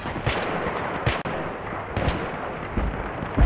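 Sniper gunfire in the video game Battlefield 3, with sharp reports cracking over a dense, continuous battle din of distant shots and rumbling explosions, with no talk.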